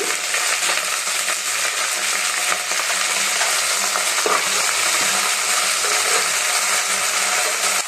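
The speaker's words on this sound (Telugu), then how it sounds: "చూడండి కొత్తిమీర కరేపాక వేగేయండి" Coriander, curry leaves and mint frying in oil in a pan: a constant, dense sizzle with occasional spatula scrapes and clinks, loud and close throughout, no voices.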